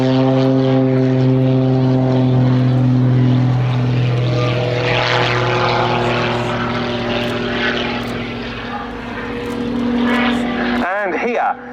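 Aerobatic propeller plane flying a display at an airshow, performing an inverted flat turn and snap rolls; a loud, steady engine drone with shifting harmonic pitch as it maneuvers, ending in a sharp swooping Doppler change, with a commentator talking over it.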